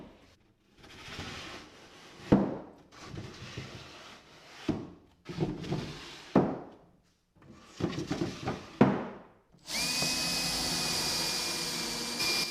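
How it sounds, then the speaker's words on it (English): A power drill bores pilot holes into reclaimed wood for 3-inch screws. Several short, uneven bursts of handling and knocking lead up to a loud, steady drilling whine near the end. "I'm just going to pre-drill before I screw in the 3-inch screws."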